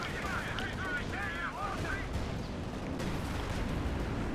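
Tank cannon fire from a Panzer IV and a KV-1 in the Company of Heroes 2 strategy game, a dense, continuous rumble of heavy shots and impacts with no clear gaps between them.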